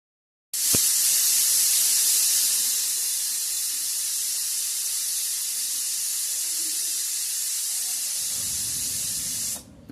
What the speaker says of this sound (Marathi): कुकरच्या दोन शिट्ट्या आपल्या झालेल्या आहेत